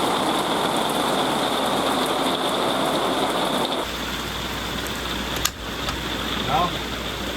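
Steady rain pours on a pop-up camper, a dense constant hiss that drops slightly partway through, with a sharp knock and faint brief noises later.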